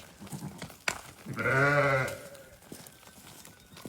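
A pregnant sheep, expected to carry twins, bleating once, loud and close for about a second amid faint farm background noise.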